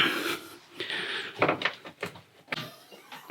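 The bonnet of a Mercedes 190E 2.5-16V is opened, giving a short series of close mechanical clunks, latch clicks and rustling scrapes spread over a few seconds.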